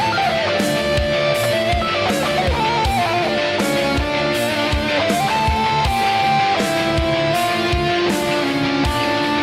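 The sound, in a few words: improvised electric guitar solo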